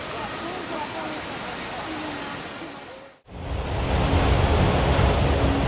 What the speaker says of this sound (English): Look at how easily the powerful current is washing away the roads